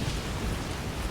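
Rain in the video game Fallout: A Tale of Two Wastelands, a dense rushing downpour with a low rumbling undertone, steady and close throughout the brief moment without speech.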